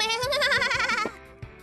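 A goat bleats inside a Buddhist temple hall, one long, wavering, close bleat followed by a short trailing call, with faint thumps and rustling around it.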